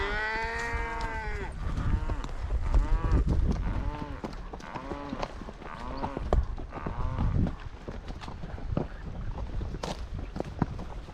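Cattle on a ranch moo repeatedly, with several long, drawn-out lowing calls overlapping at close range, plus some shuffling and footstep noise.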